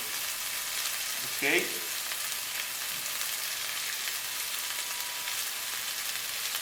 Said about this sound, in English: at the same time with the meat is browning